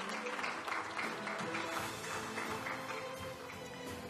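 An audience at a conference session applauds as a speaker is invited to the stage, a steady wash of clapping with some background murmur at moderate distance.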